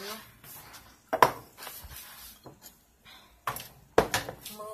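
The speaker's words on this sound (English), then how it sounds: "I was actually washing dishes" Dishes, pots and cutlery clatter and clink at a sink while washing up, with several sharp metallic knocks standing out over softer rinsing sounds, fairly close by.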